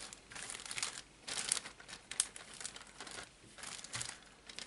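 A plastic bag crinkles as small cups are set into it while potting lemon seeds, with soft, close crackling bursts coming in short irregular clusters in an otherwise quiet room.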